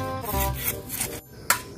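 A hand saw cuts with rasping back-and-forth strokes, each one a broad scraping swell, followed by a brief pause and a sharp click.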